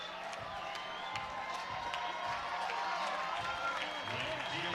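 Softball crowd at a college game rising to its feet and cheering as a batter steps in with the bases loaded, a steady roar of voices and scattered clapping filling the whole stretch at even loudness.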